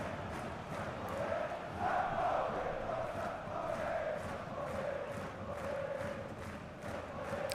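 Steady, distant stadium crowd noise from the FC25 football video game, a continuous roar with gentle swells, heard without anyone talking over it.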